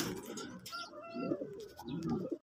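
A racing pigeon back from a derby race out of Calapan, Mindoro, cooing in soft low repeated bursts close by, with faint chirps from other birds around it.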